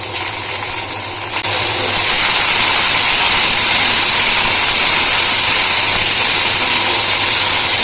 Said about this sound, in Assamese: বিনছখিনি অলপমান মই ভাজি ল'ম